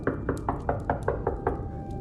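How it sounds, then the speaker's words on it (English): Knocking on a wooden cabin door: eight sharp, evenly spaced raps in quick succession, close and fairly loud, with no talk. "A second later, another knock rang through like the sharp bark of a good hound."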